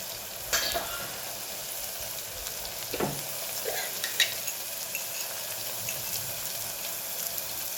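Spice masala of coriander-cumin, red chilli powder and turmeric fries in a pan, giving a steady, moderately loud hissing sizzle with a few brief stirring scrapes.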